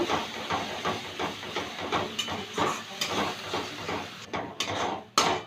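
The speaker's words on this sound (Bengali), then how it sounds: "একটু জল দিচ্ছি এবার কষিয়ে নেব" Spices with turmeric and red chilli powder sautéed in a pan with a splash of water for a bottle gourd and egg dish: a loud, steady sizzling hiss with rhythmic scraping surges as the mixture is stirred.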